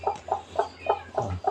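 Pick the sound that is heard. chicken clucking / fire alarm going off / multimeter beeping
chicken clucking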